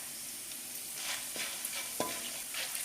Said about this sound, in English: These peppercorns will splish and splash